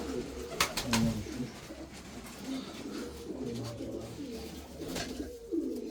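Racing pigeons, including a Kayseri breed bird, coo in low, rolling phrases close by, repeating throughout, with occasional faint clicks and rustles.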